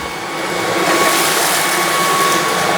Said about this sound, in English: Then I can pull the maximum trigger for maximum suction.